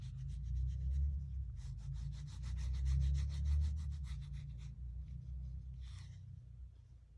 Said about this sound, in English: we're gonna add adhesive just to this panel